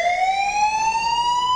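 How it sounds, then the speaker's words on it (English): A house alarm rings loudly and continuously, a piercing electronic tone slowly rising in pitch with strong harmonics, close and unbroken with no voices over it. "You can hear the alarm for 3 blocks away."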